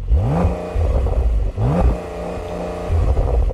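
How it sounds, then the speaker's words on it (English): A Porsche 911 Turbo S with a 3D-printed Inconel exhaust revs hard three times in quick succession, each rising roar cut off at the soft limiter, loud and close. "the Porsche 911 Turbo S isn't known for having the most fruity exhaust"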